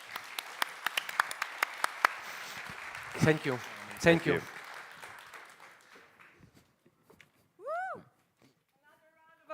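Audience applause at a TechChill Riga 2025 tech conference on the Founders Stage, dense clapping for about six seconds that fades out, with a person speaking briefly over it and afterward.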